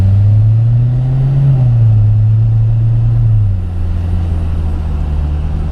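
A 2017 Corvette Z06 engine holds a loud, steady drone heard from inside the car. Its pitch climbs briefly, then eases and settles lower as revs drop.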